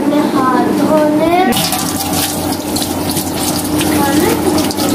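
Tap water gushes loudly and steadily into a sink for handwashing, with a voice speaking at the start before the rush of water takes over.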